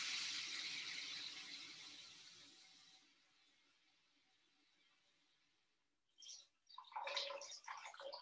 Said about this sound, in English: So you have your tap just dribbling like that.